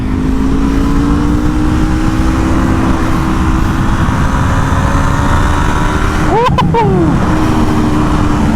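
A motorcycle engine holds a steady, loud drone while being ridden in first gear, with wind rush and a brief pitch sweep near the end.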